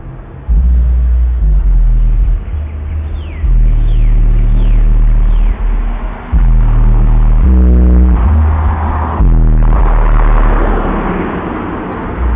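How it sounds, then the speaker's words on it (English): Deep, booming bass thumps loudly and continuously from subwoofers in a car trunk, with the car body rattling and buzzing over it and a few rhythmic pulsing beats, no talking. "That rattling sound is the car's body parts rattling from the subwoofers in the trunk."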